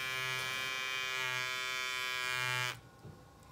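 Electric shaver running with a steady, close buzzing hum that holds for a few seconds, then cuts off abruptly as it is switched off, with no talking.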